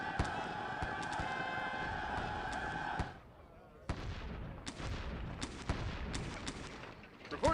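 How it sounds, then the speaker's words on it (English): Sid Meier's Gettysburg Civil War battle: a steady roar of massed musket fire gives way to a series of sharp booming volleys and cannon shots, loud and close, with a voice speaking over parts of it. "First Texas firing point blank."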